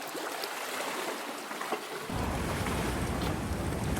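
Ocean waves at San Clemente Pier beach near sunset, a continuous broad wash of surf that swells louder and fuller halfway through.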